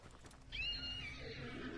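A horse in the video game Hunt: Showdown lets out a single loud, close whinny with a rising-then-falling pitch, lasting over a second against a low background rumble.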